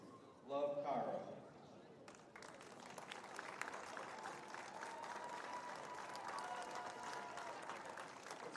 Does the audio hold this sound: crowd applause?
yes